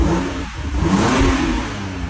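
A Toyota Supra with its old stock exhaust is revved a couple of times, the engine note rising and falling in a smooth, moderately loud swell with no talking.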